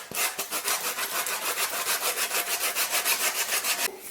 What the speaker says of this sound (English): I want to now sand this back down to the original size.